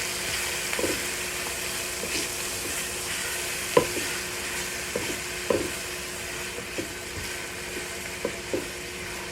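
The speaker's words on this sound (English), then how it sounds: "And you want to cook these onions until they're translucent." Chopped onion softening in melted butter in a pan makes a soft, quiet sizzle, broken by a few sharp utensil taps against the pan, with no voices.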